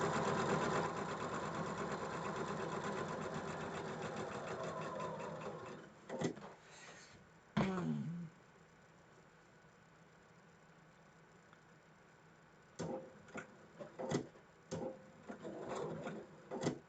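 A home sewing machine runs steadily, stitching a quilt block with a continuous mechanical whir for about six seconds. Several short bursts of stitching follow after a quiet stretch, with no voices.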